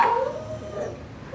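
Coton de Tulear puppies whimper and let out a short, thin howl close by, a brief high plaintive cry with no talking.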